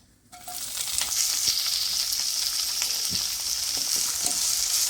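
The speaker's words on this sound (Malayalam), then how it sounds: "ഇനി ഇതിലേക്ക് ചതച്ച് വെച്ചിരിക്കണ ഉള്ളിയൊക്കെ ചേർത്ത് നമ്മൾ വഴറ്റാൻ പോവാണ്" Crushed shallots sizzle and fry steadily in hot coconut oil in a pan for a Kerala pearl spot fish dish, a continuous bright hiss broken by small stirring scrapes, loud and close with no talking.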